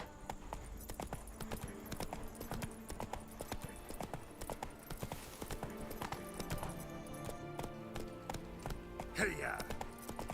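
Roach, Geralt's horse in The Witcher 3, gallops with a steady, rhythmic clip-clop of hooves throughout, close and moderately loud over faint game music, with a short voice and horse sound near the end.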